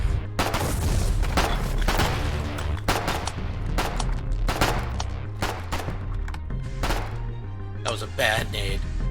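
Grenade blasts and heavy gunfire in the Foxhole war game, a loud sequence of booming explosions and rapid shots at close range, with voices talking over the battle.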